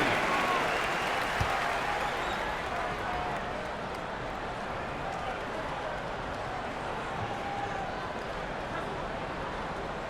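A basketball arena crowd in the NBA 2K26 video game claps and cheers in a steady, dense roar that fills the whole stretch, with voices faintly underneath.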